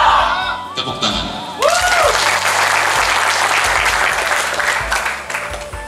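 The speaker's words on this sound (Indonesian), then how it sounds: "tepuk tangan." An audience claps at a Dayak organisation leadership meeting, a dense burst of applause that swells after a short opening with a voice and a thump, then carries on strongly before easing slightly near the end.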